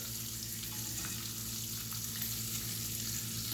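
Butter melts and sizzles in a cast iron pan for shrimp and grits, a soft, steady frying hiss with no talk.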